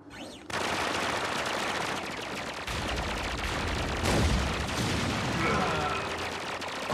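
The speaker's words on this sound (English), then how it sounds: "You're still refusing to shoot back at these pathetic miniguns!" Minigun fire from the Transformers Armada cartoon sounds as dense, continuous rattling bursts with booming impacts. A voice can be heard briefly under the barrage.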